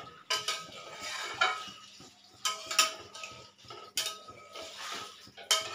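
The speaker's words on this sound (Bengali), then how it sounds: "আর এটাকে দেখো ভালো করে আমি নাড়াচাড়া করে নেব" Potatoes for aloo dum are stirred in a pan with a little added water and salt, a metal spoon scraping and clinking against the pan in repeated bursts, close and fairly loud, with no talk.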